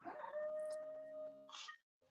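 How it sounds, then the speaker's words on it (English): Dog whimpering in its sleep, a thin high whine that holds steady for about a second, followed by a short breathy snuffle, faint and close, with no talk. "that's my dog dreaming by the way, or snoring"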